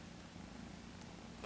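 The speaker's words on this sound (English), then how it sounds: "listen to him purr" Persian kitten purring steadily and close, a soft continuous low rumble with no speech over it.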